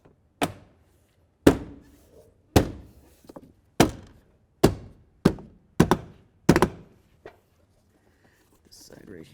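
A series of sharp, hollow thunks, about nine in irregular succession, as a door trim panel is pressed and snapped onto a 2009-2020 Dodge Journey front door, with faint whispering between.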